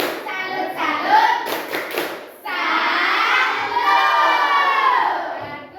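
Children in an Indonesian classroom doing the tepuk salut clapping chant, with loud group clapping and rhythmic shouted chanting in unison, close and lively, with a teacher's voice leading.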